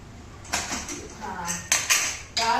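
Metal cookware clanks sharply in a home kitchen as a pressure cooker is lifted out and pots knock together, several bright impacts spread over a couple of seconds, close and fairly loud.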